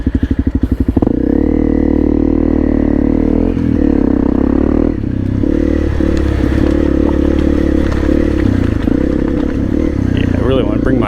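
A Husqvarna dual-sport motorcycle rides a rocky trail, its engine droning steadily and loud up close, with clattering and scraping from the rocks throughout.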